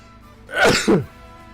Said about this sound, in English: I don't know where these sneezes came from.